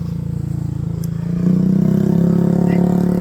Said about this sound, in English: here comes a guy right now with his exhaust